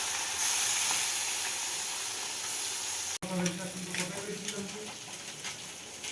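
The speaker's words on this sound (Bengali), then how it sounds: "ছোটো মাছগুলোকে ভাজতে দেবো" Small fish frying in hot oil in a wok: a loud continuous hiss, briefly cut, then renewed sizzle with stirring scrapes as the fish go in, no talking over it.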